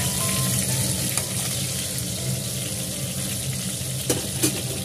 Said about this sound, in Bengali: এই তেলের মধ্যে নুন হলুদ মাখানো আলুগুলো ছেড়ে দেবো, ছেড়ে এগুলো একটু ভেজে দেবো